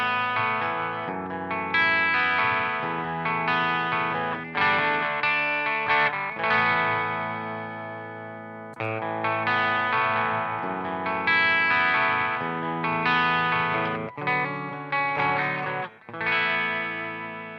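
Electric guitar played through a Victory The Jack MKII amp in its Mark II mode with reverb added, sustained distorted chords and riffs ringing out with echoing tails, loud and continuous with brief pauses between phrases.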